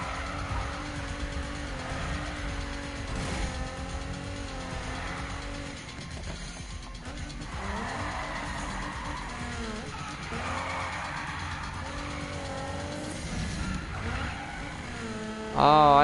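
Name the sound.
Mazda RX-7 car driving, Need for Speed video game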